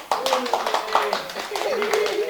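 Audience clapping at an international communication conference held at a university, a spread of quick hand claps with voices talking over it.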